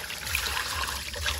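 Dew water trickling and dripping outdoors, a steady soft wet patter with a faint continuous flow and no voices.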